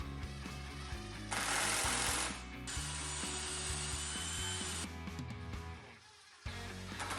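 Power driver sinking screws into a wooden CNC table frame: two sustained whirring runs, the second longer, close and loud, with clicks and clunks of handling between them.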